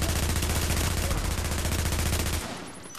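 Rapid automatic gunfire from the video game The Division rattles loud and close in a fast rhythmic burst for over two seconds, then cuts off abruptly into quieter tail noise.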